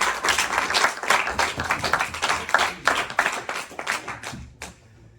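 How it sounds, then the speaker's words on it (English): A small audience claps after a student debate event in London, a fairly close round of distinct hand claps that grows sparse and stops near the end. "Give them a round of applause."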